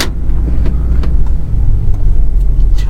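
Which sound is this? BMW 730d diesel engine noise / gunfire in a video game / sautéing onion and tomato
BMW 730d diesel engine noise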